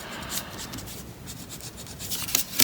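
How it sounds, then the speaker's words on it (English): An eraser rubs out pencil lines on paper with close, quiet, irregular scrubbing strokes, ending in a few quick, sharper bursts. "Once you're happy with your shape, you can just rub out the edges"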